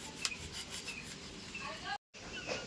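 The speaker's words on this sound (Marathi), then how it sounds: "तर बघा चप्पलचा भाग आहे ना मऊ मऊ, तो कापून घेतला." Scraping, rasping cuts through the soft rubber of a slipper, with close, uneven rubbing strokes that are interrupted by a brief gap of silence.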